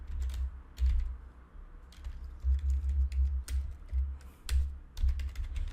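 Fingers type a prompt on a computer keyboard in short clustered bursts of clicks, close and clear, with no one talking.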